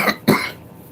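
A person getting over a cold coughs twice, sharp and close, in quick succession with no other sound.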